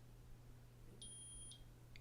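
A ketone meter gives a short pair of high electronic beeps, faint against a quiet background hum.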